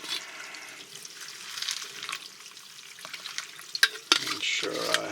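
Water is poured into a pot holding a dehydrated field meal mix, making faint, soft trickling and splashing that builds into a few louder sloshing bursts near the end.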